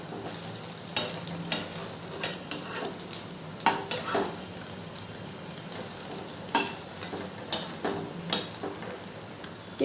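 An egg omelette fries in a pan with a steady, close sizzle and crackle throughout, broken by repeated scraping and tapping clicks from a spatula, with no voices.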